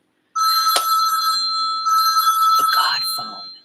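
Telephone ringing loudly close by in two long electronic bursts, then a few knocks as it is picked up, with no talk.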